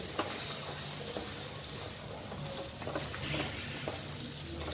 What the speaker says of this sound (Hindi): 2 मिनट इसे अच्छे से भूनेंगे इस ग्रेवी में